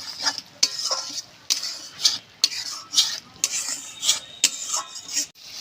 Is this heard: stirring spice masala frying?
yes